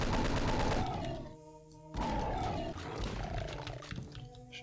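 A Pinky demon in Doom 2 lets out a loud, harsh growling roar, followed by a second shorter snarl, mixed with game gunfire and impact noise, close and in the foreground throughout.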